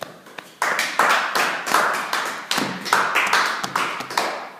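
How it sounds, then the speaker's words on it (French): A church congregation bursts into loud, sustained clapping and applause in a reverberant hall, with repeated swelling waves of hand claps and occasional thuds and no speech. "Acclamons très fortement le Seigneur."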